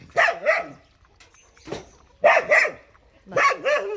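A dog barks in three short bursts of two or three barks each, close by, with brief quiet gaps between.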